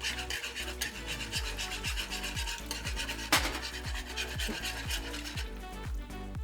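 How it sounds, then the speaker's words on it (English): Cornstarch slurry is whisked into gravy in a pan, a quick rhythmic scraping and rubbing of the whisk against the metal, steady and close with one brief sharper knock. "give it a little bit of a whisk with a little whisk. Whisk that into the gravy."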